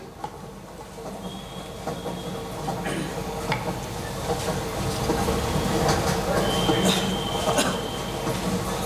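A train rumbles past with steady rolling noise, rattling clicks and occasional squeals, building slightly louder over several seconds; the last train of the night.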